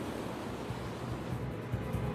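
Ocean waves break over rocks in an unbroken, dense roar of surf. The sound stays steady and fairly loud throughout, with no distinct gaps.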